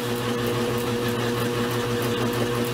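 Goodell Pratt Model 494 lathe taking a thread cut, a steady close mechanical hum with a faint rhythmic ticking.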